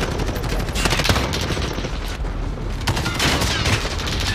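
Rapid bursts of automatic gunfire rattle through a Call of Duty: Modern Warfare match, dense and continuous with heavy, booming shots layered on top.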